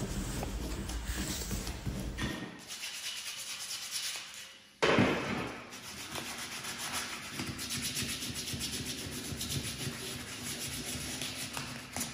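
Hand sandpaper rubbing over a metal wiper arm, a close, continuous rasping scrub that stops for a couple of seconds and then resumes with a sharp scrape, carrying on steadily to the end without any talking.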